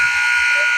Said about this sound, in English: And the buzzer comes.